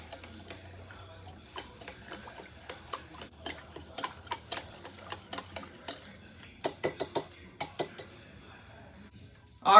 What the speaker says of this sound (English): Give it a quick whisk until everything's well combined.